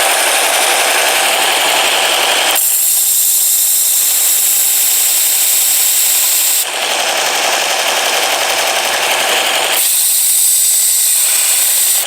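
A sharpening machine for serrated and bread knives grinding a serrated blade, loud and harsh, alternating between bright abrasive hissing stretches and duller, lower grinding phases, with no talking.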